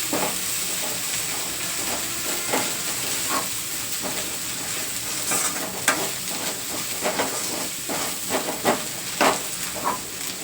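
Chopped ginger and garlic frying in hot oil for a crab curry: a steady, close sizzle and hiss runs throughout, with occasional scraping stirs and small spatters breaking through.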